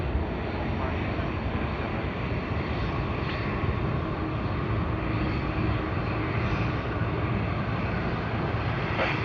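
Steady broadband roar of airliner GA714 in Mustang livery at Sydney Airport, a continuous engine rumble that holds level throughout with no clear peaks, with some talk likely mixed underneath.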